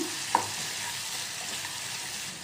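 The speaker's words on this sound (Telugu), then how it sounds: "ఇప్పుడు కలుపుతూ ఫ్రై చేసుకుందాం" Onions and amaranth leaves stir-fry in a pan with a steady, even sizzle throughout and one brief clink near the start, with no talking.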